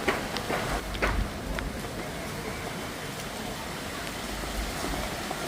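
A rainstorm at an outdoor ogoh-ogoh festival in Indonesia, a dense steady hiss of heavy rain with a few sharp taps near the start, continuous and loud throughout.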